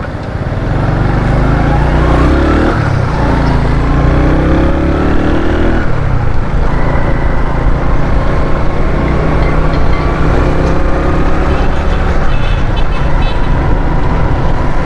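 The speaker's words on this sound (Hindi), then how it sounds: "अब इसको मोटरसाइकिल को चेक करते हैं।" A motorcycle being ridden on the road after repair in Karachi gives a loud, continuous engine drone with shifting pitch and heavy wind and road rumble, the rider occasionally speaking over it.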